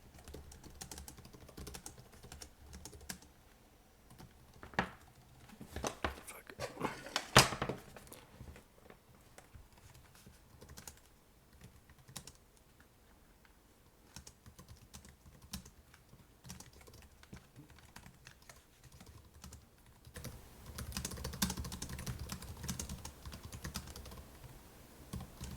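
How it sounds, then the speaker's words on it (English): Typing on the keyboard of an ASUS ProArt P16 (2024) laptop, a long run of quiet, soft key clicks in irregular bursts with a few louder clattering stretches. "let's do a quick typing test."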